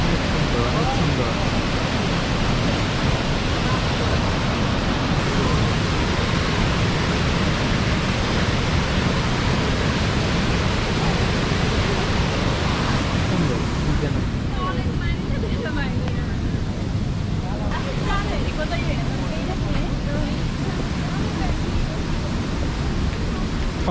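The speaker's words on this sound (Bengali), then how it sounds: "শব্দ হইতেছে অনেক, প্রচুর পানির শব্দ।" The waterfall at Devi's Fall in Pokhara, Nepal, roars as an unbroken, loud wash of rushing water that fills the whole space for the full length, with no break.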